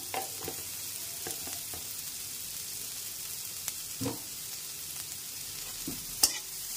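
Bottle gourd peel frying in a pan with a little sugar sprinkled over it gives a steady soft sizzle, broken by scattered stirring scrapes and clinks of a utensil on the pan.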